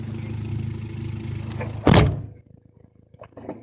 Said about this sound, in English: And it is my muffler.